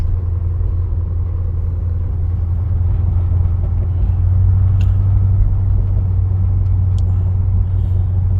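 A Ford Edsel fitted with new shocks drives along, its engine giving a steady, loud low rumble with road noise throughout and faint higher ticks, no voices.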